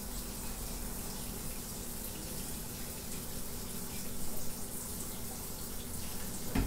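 Tap water runs steadily through a Brita filter in a home kitchen while soup is made, a constant broadband gush heard close and alone, ending with a brief clatter.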